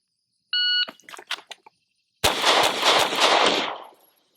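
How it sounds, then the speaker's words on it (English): A shot timer beeps, then a quick three-round string from a Sig P365 XL pistol cracks out, followed a moment later by further sharp shots echoing in a string, loud and close. "So now I'm going to shoot some 3-round string,"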